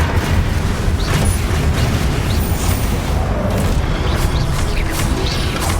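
The Confringo blasting spell in a Hogwarts video game bursts as a loud, dense booming roar with crackling debris, sustained at full strength throughout with no clear pauses.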